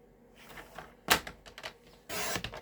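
A paper cutter slices through cardstock, giving a sharp blade stroke followed by a louder, longer cut, with faint handling noise between them.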